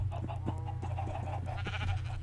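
Bleating and clucking farm-animal noises from Minecraft sheep and other mobs, several short repeated calls over a steady low hum, fairly faint and with no talk.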